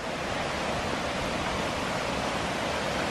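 Skra waterfall in the Greek mountains sends down a loud, steady rush of water, a dense unbroken roar that holds evenly throughout with no voices.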